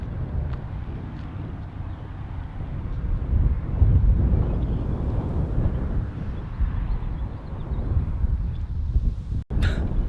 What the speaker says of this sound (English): Sorry, it's a little windy because of, well, it's the wind